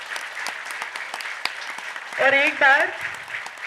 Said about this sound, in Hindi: तालियों की गड़गड़ाहट को बंद करते हुए